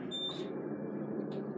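An Otis Elevonic 411M elevator in a Las Vegas hotel tower gives two short electronic beeps. The first is clearer and the second fainter, over a steady low hum of the car.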